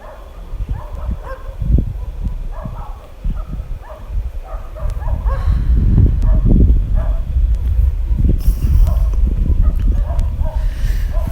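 Several dogs bark outdoors in winter in Kaza, Spiti, with repeated yips and barks coming at irregular intervals, some near and some farther off, over a steady low background rumble.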